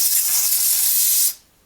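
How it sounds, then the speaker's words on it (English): Contact cleaner sprays onto a ColecoVision expansion module circuit board in one loud, close hiss lasting just over a second before cutting off abruptly. "I'm going to take some contact cleaner. I'm going to get in here and just make sure nothing in here is like dirty."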